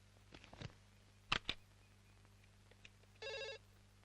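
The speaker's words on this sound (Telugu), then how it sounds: "నేను ల్యాండ్ లైన్ నుంచి చేస్తాను." A landline telephone rings once in a short electronic burst, preceded by a few soft knocks and clicks in an otherwise quiet room.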